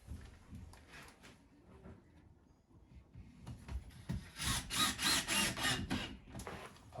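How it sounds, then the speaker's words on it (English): Screws, 30 mm, are driven with a drill through countersunk holes in the back panel of a fitted cabinet being installed, giving a grinding, rasping whir against the wood. Quieter rubbing comes first, then a louder sustained burst of driving near the end. "I just screw through the backs. And then I'm using 30mm screws."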